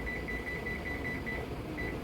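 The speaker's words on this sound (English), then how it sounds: "Let me set my timer" A kitchen timer is set for boiling jam, giving a steady high electronic tone with a few slight pulses, faint over a low background hum, with no speech.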